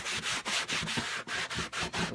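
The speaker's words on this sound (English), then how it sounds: "So get in there and scrub every nook and cranny." A leather car seat cushion is scrubbed with cleaner in quick, rhythmic back-and-forth brushing strokes, close and steady, about ten rubs in two seconds with no talk.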